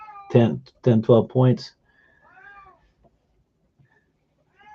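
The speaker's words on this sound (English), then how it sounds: "You can hear my cat in the background." A house cat meows a few times in the background after someone speaks briefly; the meows are soft and fairly distant, trailing off into quiet.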